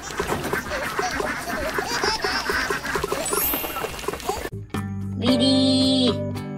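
Toy duck quacks in a few short honking bursts near the end, loud and close, following a stretch of busy noisy cleaning sounds and faint voices.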